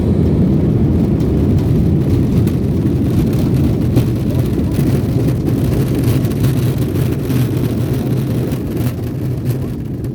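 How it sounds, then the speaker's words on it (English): Airliner rolling out after touchdown with reverse thrust engaged: a loud, rumbling low roar with rattling and shaking heard from inside the cabin, easing slightly at the end. "So now the reverse thrust and the spoilers have been activated."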